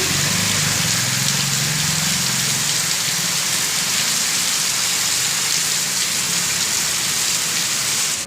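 Heavy, continuous rain pouring across Gujarat, a dense steady hiss of drops beating on surfaces with a faint low rumble underneath, loud and unbroken throughout.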